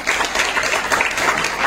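Audience applause at the Jijau Brigade international convention in Dubai, a brief, steady wash of many hands clapping at moderate distance.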